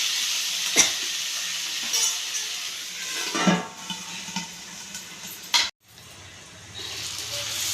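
Onions and tomatoes sauté in a pan for Chettinad okra mandi. A gentle sizzle runs under scattered utensil clinks and stirring scrapes, then cuts out briefly before the frying resumes.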